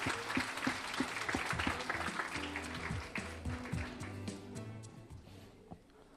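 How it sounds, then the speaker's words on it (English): Applause for two families at an engagement celebration, clapping that fades over several seconds while music plays loudly underneath. "How about a big round of applause for Pandya family and Tolia family?"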